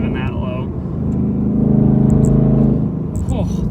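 A 2018 Ford Mustang GT Performance Pack's naturally aspirated engine drones steadily while driving, swelling to a fuller, louder roar midway before easing off, with talk over it.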